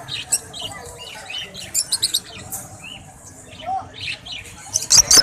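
Parrots at the Lalukhait bird market squawk and chirp in a busy, uneven chorus of sharp close calls, with a faint crowd murmur underneath and a louder burst of squawks at the end.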